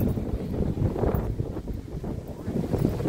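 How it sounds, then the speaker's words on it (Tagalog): Strong wind buffets the microphone in a constant low roar with gusty surges, a faint wash of sea in the background. "Lakas ng hangin."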